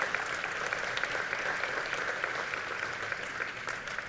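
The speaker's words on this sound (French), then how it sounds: "On peut l'applaudir." A crowd applauds steadily at an exhibition opening reception, a dense wash of clapping that stays even throughout, heard from within the audience.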